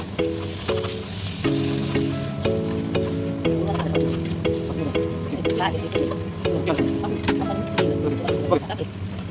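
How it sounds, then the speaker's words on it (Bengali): Boiled potatoes are stirred into a sizzling pan of Bengali matar ghugni, with a steady frying hiss and scraping spoon strokes repeated throughout and a soft voice faintly underneath. "এরপরে সিদ্ধ করা আলু দিয়ে ভালো করে এটিকে মাখিয়ে নিব।"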